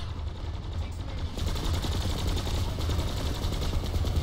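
Rapid video-game gunfire rattles in fast, steady bursts during a night military operation, the shots growing denser and louder partway through and continuing without pause.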